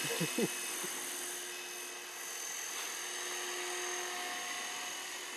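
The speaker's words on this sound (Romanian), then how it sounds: "elicopter domn Pojar" A T-Rex 450 radio-controlled model helicopter whines at a high, steady pitch, sounding some distance away and droning on without a break.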